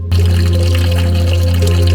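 Spring water flows steadily at a hill spring in Mahabaleshwar, Maharashtra, a continuous close-up rush over a constant low hum, with no talking.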